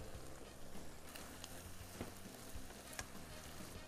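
Carrots sizzle and crackle steadily in a hot pan with mushrooms, a quiet continuous fry with occasional louder pops.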